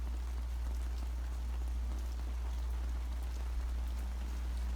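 Steady rain falls outdoors in a continuous, even hiss, with a constant low rumble beneath it and no voices.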